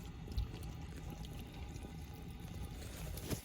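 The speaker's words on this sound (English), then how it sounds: "Turn the water on. Okay, we're live with water." Water rushing through a freshly repaired PEX line fitted with SharkBite fittings under a mobile home as pressure builds, a faint, steady hiss and gurgle with a couple of soft knocks, no voices over it.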